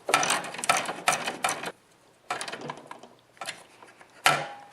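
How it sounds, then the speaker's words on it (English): A 7/16 bolt is tightened on the cable pulley of a snowblower drive cable, giving several close, crisp ratcheting bursts separated by short pauses, with one final sharp click. "And now just tighten up the 7/16 bolt."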